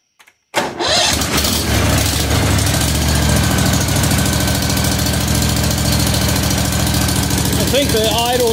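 A Vanguard 18 engine swapped into a Cub Cadet 1872 garden tractor cranks, catches and settles into a loud, steady close-up idle with a faint mechanical knock.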